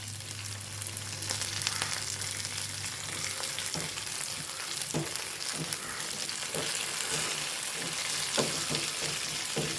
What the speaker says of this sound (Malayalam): ആദ്യം ഉഴുന്നുപരിപ്പ് ഇട്ട് കൊടുത്തു ഇനി കടലപ്പരിപ്പ് ഇനി ഇളക്കി കൊടുക്കാം